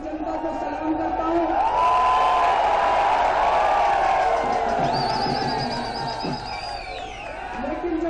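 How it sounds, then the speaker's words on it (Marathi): Crowd of Aam Aadmi Party workers celebrating in Delhi, with a mass of cheering voices, whoops and shouting, plus a few whistles and drum or horn-like tones rising over the steady din. "आम आदमी पक्षाच्या या निर्णयानंतर पक्षाच्या कार्यकर्त्यांनी दिल्लीत जल्लोष केला"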